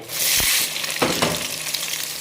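Sliced eggs frying in hot oil in a home kitchen give a steady close sizzle, with a couple of brief clinks or stirring knocks partway through, and no speech.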